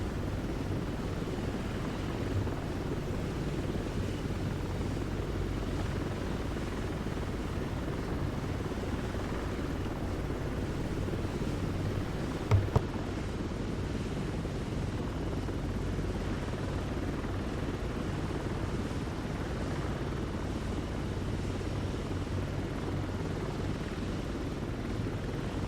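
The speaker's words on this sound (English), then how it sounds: "I really enjoy the helicopters." A helicopter in Flight Simulator 2024 drones on steadily with a low rotor and engine rumble, holding a constant level throughout, with one brief click near the middle and no talking.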